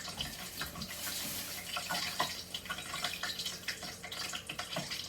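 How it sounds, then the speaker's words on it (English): Steady crackling sizzle of a water drop in hot frying grease in a small pot, dense irregular pops and hiss throughout, close and fairly loud with no talking. "I just dropped a drop of water in it."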